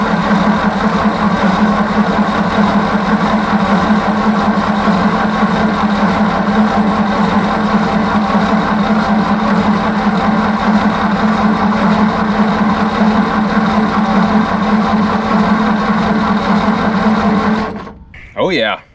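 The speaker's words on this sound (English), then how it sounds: "crank on the engine," Small engine of an old stuck motor being cranked from a solenoid switch while the carburetor is worked, a steady loud droning churn held for about seventeen seconds before cutting off abruptly, followed by a brief burst.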